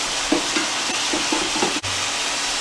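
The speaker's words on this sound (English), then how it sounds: "While you're browning your meat" Ground meat browning in a pan for sloppy joes, with a steady broadband sizzle and several soft scraping stirs of a utensil, close and continuous.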